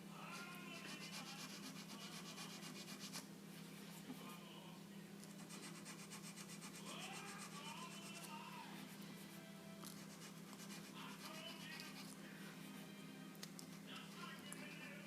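Fine sandpaper, worked up to 1200 grit, rubs over a dented wooden guitar neck in faint, repeated strokes above a low steady hum.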